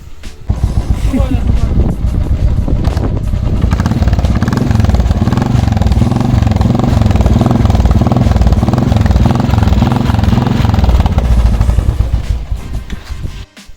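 A 2011 Royal Enfield Bullet Electra's engine runs steadily at idle, a loud, close, throbbing single-cylinder thump with a pulsing rhythm that lasts the whole stretch before dropping off at the end.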